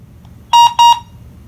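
A HeimVision HM205 smart WiFi security camera gives its setup beep, two short loud identical tones in quick succession, close and clear over a faint background hum.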